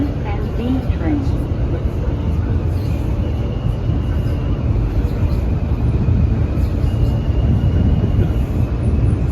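An R160 E train on the New York City subway rolls along with a loud, steady rumble and rail noise heard from inside the car, continuous throughout.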